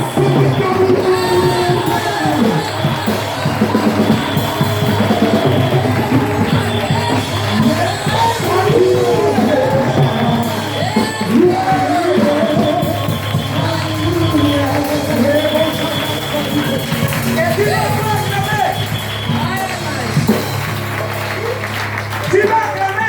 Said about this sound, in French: Tu vas commencer à acclamer. 1, 2, 3, acclame.